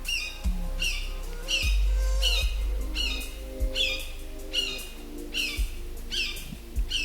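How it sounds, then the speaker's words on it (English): A hawk outdoors gives a run of sharp, raspy squawking calls, about seven or eight in a row at irregular intervals, close and clear over faint low background. "I think that's a hawk."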